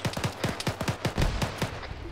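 Rapid, evenly spaced reports of gunfire in the game Squad, from a 40mm grenade launcher, about a dozen sharp bursts in two seconds with a rolling, fairly close sound.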